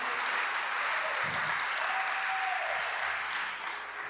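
Loud, sustained applause from a large church congregation at a Saturday service, dense clapping that holds steady for several seconds before tapering slightly.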